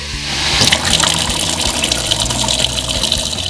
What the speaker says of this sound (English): Connect the other end to the faucet. Check this out, Lily. Just turn on the water.